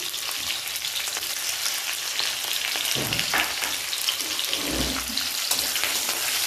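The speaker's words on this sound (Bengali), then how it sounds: "পেঁয়াজ কুচি দিয়ে দিচ্ছি।" Chopped onion sizzles steadily in hot oil already tempered with black cumin (kalo jeere) and dried red chillies, a dense close frying hiss with a few soft stirring bumps and no talk.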